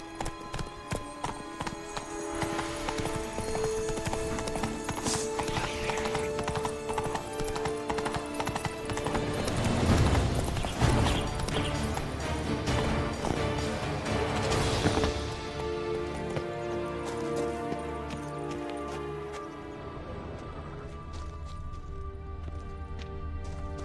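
Roach, a horse in The Witcher 3: Wild Hunt – Blood and Wine, clip-clops along in steady rhythmic hoofbeats layered over game music, with a brief surge of action partway through.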